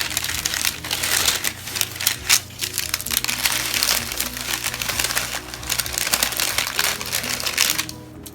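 Stiff strawberry crunch cake crumble mixture being folded over on itself, giving a steady, close crinkling and crunching texture throughout, alone with no talk.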